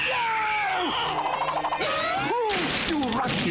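Cartoon cat from a Smurfs episode letting out several loud, drawn-out meows and yowls in close succession, with crashing effects mixed in.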